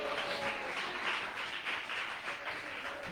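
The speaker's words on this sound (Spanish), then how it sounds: "¿Cuántos aplauden el nombre del Señor?" A church congregation applauds together, a steady wash of fairly faint, distant clapping with no voices over it.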